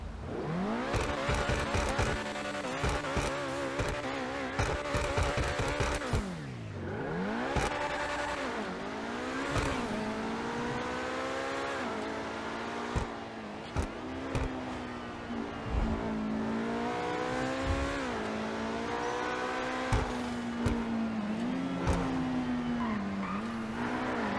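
Obey 10F Widebody sports car engine in GTA Online revving hard, pitch climbing and dropping through gear changes with tire squeals, loud and continuous.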